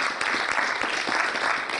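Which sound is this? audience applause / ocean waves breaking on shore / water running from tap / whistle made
audience applause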